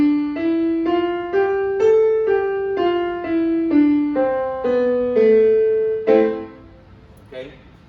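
An A natural minor scale, A through A, sounded as a steady run of sustained stepwise notes with rich overtones, each note clearly separated, ending with a brief lower flourish and fade.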